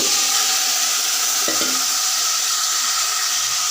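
Pieces of taro frying in hot oil in a pan, a loud continuous sizzle with a brief stir or scrape partway through.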